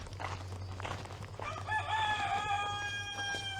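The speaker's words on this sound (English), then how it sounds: "Let's have a look at the chickens." A rooster crows in a long, loud call with harmonic overtones, over a low steady hum and scattered clucking from chickens nearby; the setting is a chicken yard on a Greek island.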